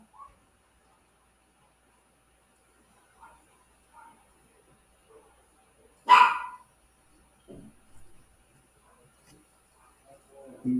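Indoors, a house dog gives a single sharp, loud bark midway through an otherwise quiet room. Faint scattered voices and small household noises sit around it.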